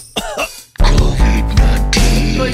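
Several harsh, explosive coughs in a row from a person with COVID-19, loud and close, with a short gap after the first bursts before the heavier coughing continues.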